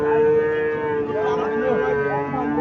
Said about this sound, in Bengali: এখানে একটা দেশি গাভী দেখা যাচ্ছে